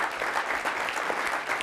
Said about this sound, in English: Why don't you give the Minneapolis Club a round of applause?